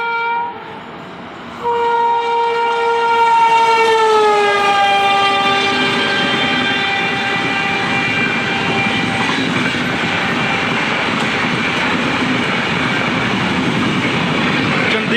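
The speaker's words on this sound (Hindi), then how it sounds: "अर्चना सुपरफास्ट पटना से जम्मू के बीच में चलती है।" Archana Superfast express train running between Patna and Jammu passes close by, a loud sustained horn blast with steady rail rumble and wheel noise continuing throughout.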